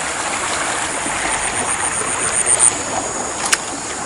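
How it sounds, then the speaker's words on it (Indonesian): A clear river flowing straight from its source near a hidden village in Pangkep, Sulawesi, a steady broadband rush of moving water with small splashes and a sharp click near the end. "di sini ada sungai-sungai yang mengalir, air yang mengalir langsung dari sumbernya"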